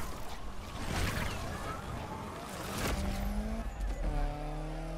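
Engine revving and tires squealing from a racing car in NFS Unbound, loud and close with a skidding burst midway and rising engine tones near the end.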